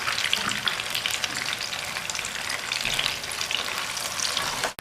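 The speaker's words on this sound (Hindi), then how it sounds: "मैरिनेट चिकन जो था वो कर दिया शामिल" Marinated chicken hits a hot karahi and fries with a loud, steady sizzle and crackle that holds for the whole stretch, with no voices over it.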